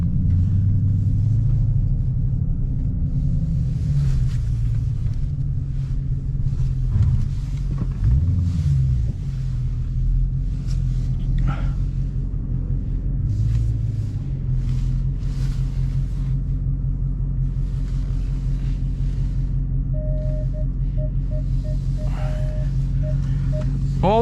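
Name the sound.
2022 Dodge Challenger Hellcat engine rumbling while backing in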